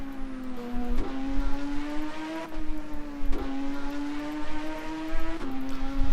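A race car in the Second Life game, on the GT Super Series Herrenhaus track, revs loudly up through its gears, its engine tone climbing and dropping at each of several shifts, close and steady, with no talk.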